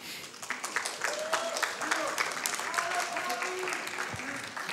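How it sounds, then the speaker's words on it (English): An event crowd at Summer Games Done Quick applauds after a Crash Bandicoot 2 speedrun, a sustained, moderately loud wash of clapping with voices and faint tonal sounds underneath. "How about another round of applause for Potty?"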